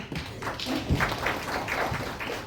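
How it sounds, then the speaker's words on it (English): Scattered applause from a conference audience rises and holds for a couple of seconds, moderately loud with uneven, overlapping claps. "And Round of applause for her."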